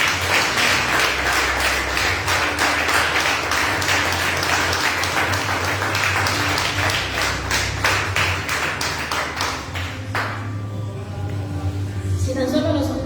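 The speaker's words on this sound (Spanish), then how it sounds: "Den un aplauso al Rey de Reyes." A church congregation applauds during a Spanish-language sermon. Many hands clap close and loud in a dense, slightly rhythmic patter for about ten seconds, then fade out as a voice begins speaking.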